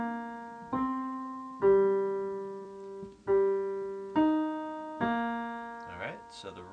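Low piano notes play the left-hand bass line of a song, several single struck notes each ringing and decaying in a slow, steady rhythm, close and clear, ending with a short breathy sound.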